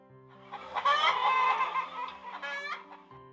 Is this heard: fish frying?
no